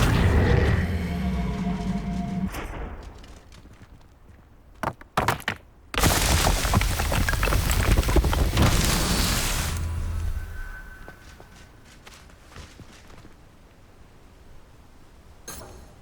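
Incendio fire spell cast in Hogwarts Legacy, with loud whooshing bursts and sharp cracking impacts, a dense roaring blast in the middle, then fading crackle and glassy clinks.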